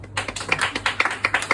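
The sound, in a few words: comedy club audience applause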